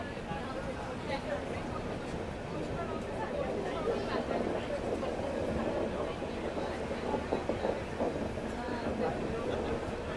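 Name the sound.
train departing Lonavala, banker locomotives detached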